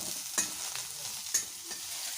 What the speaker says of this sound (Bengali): বন্ধুরা, আমি এখন সয়াবিনটা মানে ভাজা করছি।